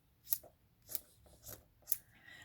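Scissors snip through patchwork quilt backing and batting, roughly trimming a half-inch lap during hand quilting: four crisp, close cuts about half a second apart, with nothing else heard.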